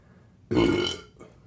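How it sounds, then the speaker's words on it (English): Single loud, close burp after drinking BJ's Imperial White Ale, a carbonated 8.5% beer, lasting about half a second, with a faint trailing sound after it. "Produces good burps."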